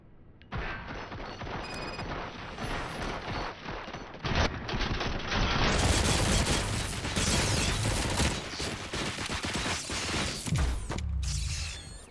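Gunfire in the video game RoboCop: Rogue City comes as dense rapid bursts of shots mixed with clanking mechanical noise, loud and continuous for about ten seconds with no talk.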